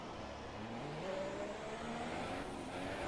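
F1 race car engine in the F1 2017 video game at the Monaco Grand Prix, revving high and steady with slowly rising pitch, loud and continuous throughout with no talk.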